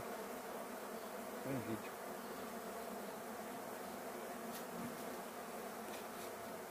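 A swarm of bees arriving, a dense, continuous, even buzzing of many insects that fills the whole stretch at a distance, with a brief spoken phrase over it.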